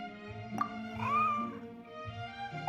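A cartoon cat in the video game Genshin Impact lets out a rising, drawn-out meow over a steady bed of game music.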